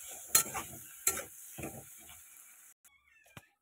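Food frying in a kadai while it is stirred, with a few sharp scraping clatters early on, then quieter sizzling and a last short clink near the end.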